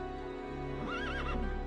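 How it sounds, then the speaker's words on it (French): A horse whinnies once, a rising and wavering neigh near and clear over a steady low background hum. "Regarde ce cheval, tu lui as évité de se faire manger."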